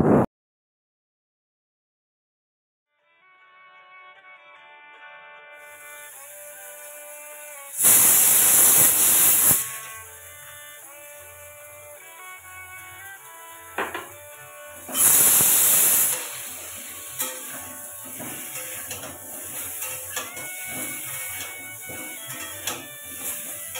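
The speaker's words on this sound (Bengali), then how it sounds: "আলুটা ভেজে রাখছি মাংসের জন্য" Potatoes are fried in a pan for a meat dish, giving a steady sizzle with two loud bursts of hissing spray amid tonal humming noise.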